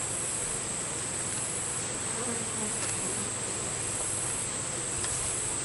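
Honey bees leave an open hive during a September inspection, making a dense, continuous close buzz that holds steady at even loudness throughout.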